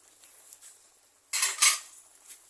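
Fried prawns tipped into a hot pan for a prawn and mango curry, giving one short, loud burst of sizzling and metallic clatter against a quiet background.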